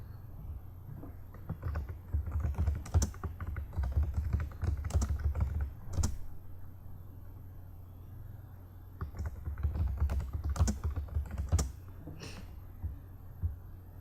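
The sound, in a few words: typing a free-text note on a computer keyboard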